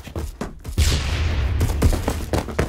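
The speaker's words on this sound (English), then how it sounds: "It's that semi-shotgun. Auto shotgun, I meant." AA-12 auto shotgun firing in a video game, a rapid burst of booming shots after an initial pair of blasts, loud and close with dense rolling reports.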